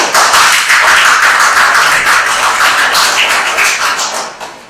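A classroom audience claps steadily for a student presenter at a graduation project presentation, loud, dense and continuous applause that tapers off at the end.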